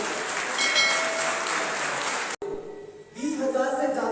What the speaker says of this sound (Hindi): पुनः आप सब एक बार पुनः खड़ा होकर के ताली बजा करके उनका स्वागत करने का काम करेंगे